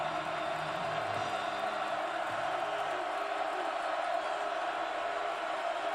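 A packed college football stadium crowd roars at the K-State versus OSU game, a constant loud wall of cheering and shouting that carries on without a break.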